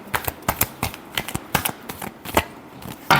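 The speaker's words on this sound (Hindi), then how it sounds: "last shuffle" Tarot cards shuffled in close, loud, rhythmic overhand strokes, each a sharp papery slap repeating steadily about every quarter second with no voice over it.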